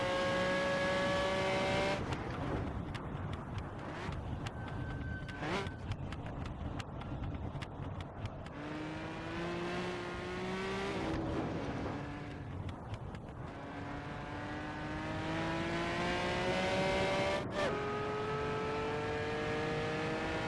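A race car laps the 1975 Silverstone layout in Assetto Corsa, its engine whine climbing and dropping through gear changes, loud and close, with brief shifts and steady acceleration runs and no talking.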